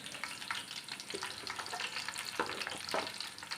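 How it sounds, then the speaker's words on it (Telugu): Dried red chillies crackle and sizzle in hot oil for a tomato pickle tempering, a busy hiss with scattered pops and stirring scrapes, close up and with no one speaking. "ఇలా ఎండుమిర్చి వేసి మంచిగా కలపాలండి తాలింపు రెడీ అయిపోతుంది"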